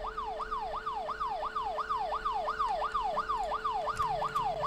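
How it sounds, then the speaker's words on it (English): Wailing emergency siren in the horror video game Fears To Fathom: Home Alone, a steady rising-and-falling sweep repeating about every 0.4 seconds, loud and continuous over a low background hum, with no talking. "Oh, sirens."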